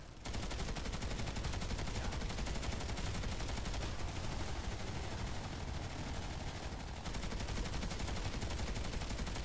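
Automatic rifle fire in the game Planetside 2, trigger held down: a dense, continuous stream of rapid shots, loud and unbroken for several seconds with a brief pause near the end.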